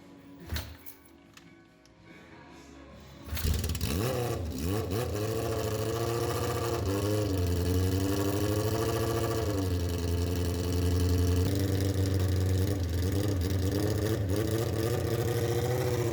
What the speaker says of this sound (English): Started the bike up. It kicked a little harder than I'm used to,